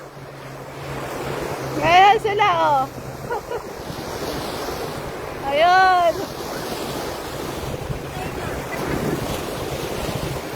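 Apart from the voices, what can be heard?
sea waves on beach in Dubai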